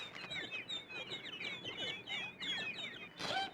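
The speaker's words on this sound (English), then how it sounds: "Hey, baby birds!" High, rapid chirps from a brood of baby birds in a nest, repeated in busy overlapping bursts at close range, with no talking.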